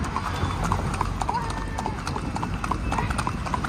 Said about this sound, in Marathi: घोड्यालांचा तांडा चाललेला आहे बघा